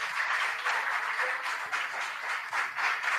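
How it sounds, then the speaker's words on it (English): An audience at a school competition between Goshen Community School, Divine Grace Academy and Atomic Hills 2 Basic School breaks into sustained applause, a dense, even wash of many hands clapping that carries on without pause. "Can we give them another round of applause"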